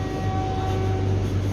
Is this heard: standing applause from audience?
no